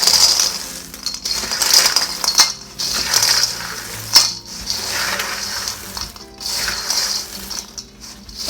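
Dry Chex mix being stirred in a bowl, giving a steady, close clatter and rattle of crunchy pieces that scrape and tumble in uneven bursts throughout.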